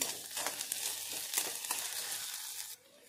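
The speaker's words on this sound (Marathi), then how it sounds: "स्वीट कॉर्न पण इथे आपल्याला छानपैकी भाजून घ्यायचे." Sweet corn roasts in a hot pan with a light, steady sizzle and scattered crackles, then the frying noise abruptly drops away near the end.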